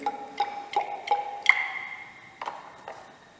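A test tube holding a foodstuff sample and water is shaken, giving a series of about eight short glassy clinks and rattles, spaced irregularly and fairly close, with no talking.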